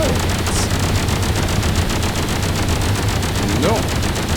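Sustained weapon fire aimed at a vehicle in Space Engineers rattles on without pause as a dense, loud barrage, with faint voices mixed in underneath.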